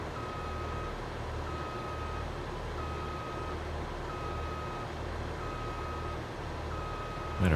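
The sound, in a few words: tractor reversing beeps while backing up, Farming Simulator 22 video game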